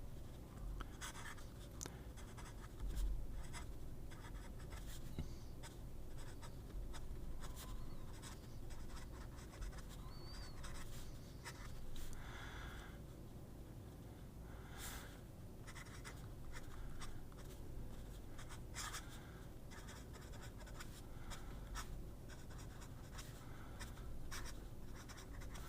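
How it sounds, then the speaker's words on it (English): A Sailor fountain pen scratches across dot grid paper in a steady run of close, soft strokes and ticks, with short pauses between lines. "This is the Sailor. I really want to just see how it writes on this paper."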